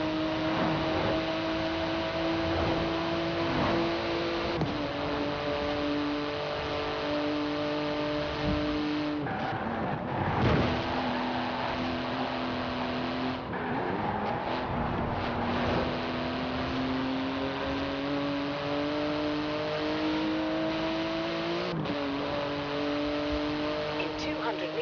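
A fast car in the open-world racing game Forza Horizon 4, limited to 211 mph, roars continuously with engine pitch climbing and dropping through gear changes, with occasional tire squeals and thumps over a long run.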